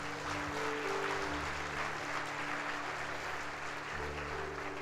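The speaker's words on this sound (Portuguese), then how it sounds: "Dá um aplauso aí a Jesus." Sustained applause from a church congregation during a Sunday service, a steady wash of many hands clapping at moderate level with a low hum underneath throughout.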